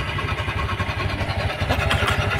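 Motorcycle engine running from new with an odd noise that persists after servicing, a steady close low rhythmic chugging and knocking pulse like a diesel, loud and continuous.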